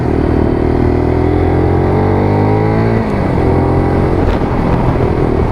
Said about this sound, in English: There you go, get a bit of engine noise